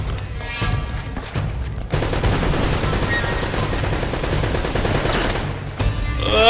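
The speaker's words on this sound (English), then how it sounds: "that's a mounted gun" Heavy rapid automatic fire from a mounted gun in Uncharted: Drake's Fortune, a dense sustained burst running nearly the whole time with a brief lull before it resumes, loud and close with booming impacts.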